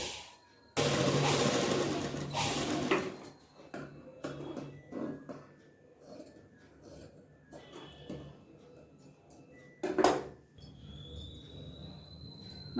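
A sewing machine's hand wheel is turned back and forth to stitch two layered pieces of fabric. A close burst of whirring comes first, then scattered soft mechanical clicks and ticks.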